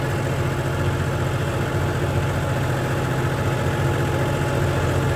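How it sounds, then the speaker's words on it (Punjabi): A steady, close tractor engine drone with a deep low rumble, idling or running continuously without pause; no voices are heard. "ਹਰਮਨ ਵੀ ਆਉਂਦਾ ਪਿਆ ਟਰੈਕਟਰ ਲੈ ਕੇ"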